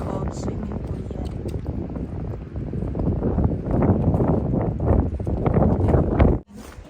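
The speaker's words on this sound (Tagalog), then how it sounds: "Tapos medyo mahangin." Wind blusters steadily outdoors in a snowy, thawing setting during a first practice flight of a DJI Mini 3 Pro drone, a constant roar of broadband gusts close to the microphone that cuts off abruptly near the end.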